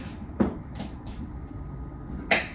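A kitchen drawer is worked open and shut, giving a few sharp wooden knocks and sliding rattles spaced across a quiet room, with a louder bang near the end.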